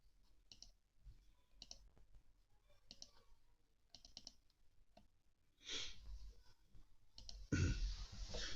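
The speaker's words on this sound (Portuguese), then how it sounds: "Vamos ver o que ele pede para clicar aqui." Soft computer mouse clicks tap out at a slow, roughly regular pace against low background hiss, followed by a few louder shuffling bumps and handling noise near the end.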